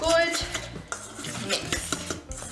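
Guacamole stirred with coriander in a bowl: quick, close scraping and tapping of a utensil against the bowl in an uneven rhythm, fairly loud with no talk.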